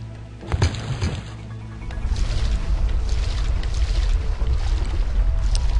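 A rowboat ride out to Skull Island in The Curse of Monkey Island: a few knocks and splashes at the start, then a steady low wash of water and wind as the boat moves along.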